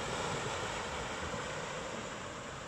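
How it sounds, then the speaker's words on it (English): Surf of the incoming tide washing onto the Lytham seafront, a steady broad roar of waves with wind noise across the microphone, continuous and fairly loud with no voices. "the tide is coming right in now"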